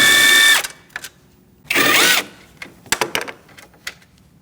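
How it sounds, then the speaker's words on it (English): Power ratchet or driver working a 10mm socket on the cooling fan bolts of a 2008-2014 Mercedes-Benz C300, two loud buzzing runs of about half a second each, separated by quiet gaps and followed by scattered clicks and clanks. "Using a 10mm socket, we're going to remove these bolts."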